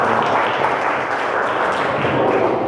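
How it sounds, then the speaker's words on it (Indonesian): Students in a classroom applaud a classmate, a short dense burst of close, steady clapping from a small group lasting a few seconds. "beri tepuk tangan ya untuk ini"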